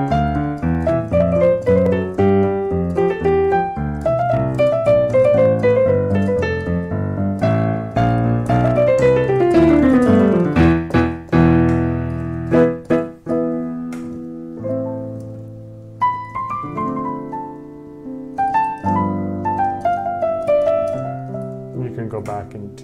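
Solo piano plays a disco-style arrangement of a song, with bouncing chords and a melody line running steadily, busy and full at first, then thinning into sparser phrases near the end, with no voices.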